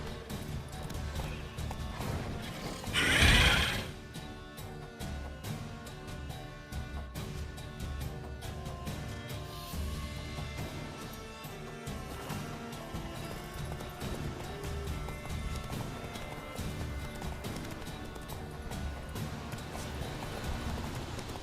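Roach, the horse in The Witcher 3, gallops with a steady running clip-clop over a constant game backdrop, broken early by one louder crash-like burst and a short whinny-like accent.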